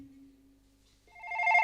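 A telephone rings with a brief bright electronic trill after a low steady tone, short and faint, with no one talking.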